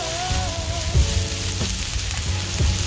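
Butter frying in a hot pan or griddle while cooking chicken fried rice, a loud, steady, close sizzle that runs throughout, with a few soft clinks and bumps from the pan.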